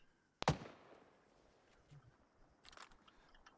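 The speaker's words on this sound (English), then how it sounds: "That sounds like a high-powered sniper." A single sharp, distant-sounding crack of a high-powered sniper rifle shot in the Antistasi Ultimate video game, followed by a faint decaying tail and a couple of fainter clicks.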